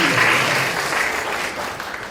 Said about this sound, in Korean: 예, 박수. 이럴 때 박수입니다.